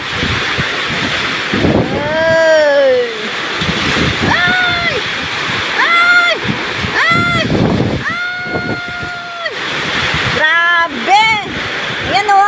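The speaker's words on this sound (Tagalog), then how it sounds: "Lakas talaga ng ulan." Steady heavy rain from a typhoon roars throughout, with flooding nearby and a person speaking over it in several stretches.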